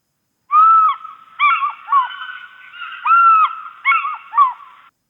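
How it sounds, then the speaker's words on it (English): An African fish eagle calling, a series of loud, ringing yelping notes in several phrases with short gaps, clear and alone against a silent background. "I want to actually just share with you the call of the fish eagle for a few seconds."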